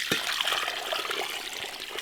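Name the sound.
pouring liquid into a 20-litre pot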